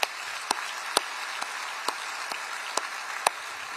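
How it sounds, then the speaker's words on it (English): An audience gives another round of applause at the 2023 State of the Orange County address, a sparse, fairly quiet patter of clapping punctuated by several sharper individual claps at a steady spacing. "Please give them all another round of applause."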